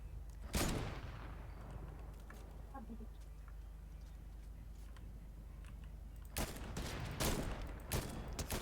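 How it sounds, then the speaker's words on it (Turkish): Gunfire in a video game: a sharp shot rings out, then after a quiet stretch comes a cluster of rapid, loud bursts. Faint speech may be present. "Ben rastgele sıkıyorum ağacın içinden vururum belki."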